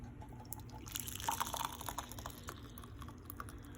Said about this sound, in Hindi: हम इसको फिल्टर कर लेंगे कप में.